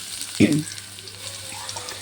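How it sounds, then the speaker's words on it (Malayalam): Chopped onion dropped into hot coconut oil in a pan gives one short, loud sizzling burst, then a faint steady hiss with no talking. "വെളിച്ചെണ്ണ നന്നായി ചൂടായി വരുമ്പോഴേക്കും നമുക്കതിലേക്ക് സവാള ഇട്ട് കൊടുക്കാം"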